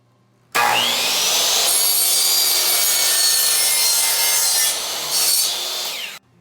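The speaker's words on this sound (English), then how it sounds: "I'm going to cut it at a 45-degree angle." A power saw, likely a table or miter saw, cuts a wooden baseboard at a 45-degree angle for an install. It sounds as a loud, steady, high whine for about six seconds and then stops abruptly.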